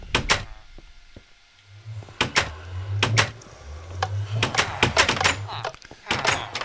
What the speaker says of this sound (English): We'll go back in through the door that we came in.